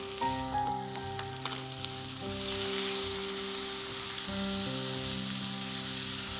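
Boneless chicken breast frying in oil with ginger-garlic paste, a steady close sizzle that grows louder midway, with some scraping and stirring and no talking.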